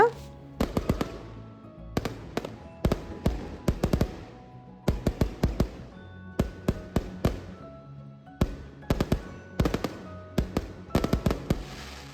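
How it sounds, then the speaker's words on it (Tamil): Repeated bursts of firecrackers crackle and pop in rapid clusters on a street during Chinese New Year, with short pauses between volleys, fairly close and loud. "வெடி வந்து கண்டினியூ ஆகிட்டே தான் இருக்குது"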